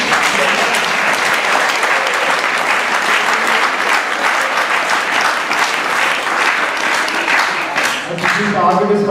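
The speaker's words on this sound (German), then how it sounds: "Applaus bitte" An audience at a weightlifting competition applauds loudly and steadily for the athletes, a dense crowd roar of many hands that carries on without pause, with some voices mixed in.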